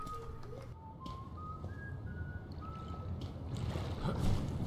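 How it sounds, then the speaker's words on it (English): A character in the video game TRI: Of Friendship and Madness whistles a short tune of rising and falling notes, heard over a steady ambient water-like background that grows louder toward the end. "You're whistling."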